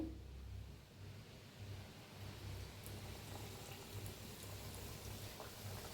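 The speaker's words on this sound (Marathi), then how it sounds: "आता तेल मी साईडला गरम करून घेतलेलं आहे तर तळून बी दाखवते तुम्हाला मी" Chakli made from bhajani flour deep-fries in hot oil, giving a steady, soft bubbling sizzle that carries on evenly throughout, faint and close with no talking.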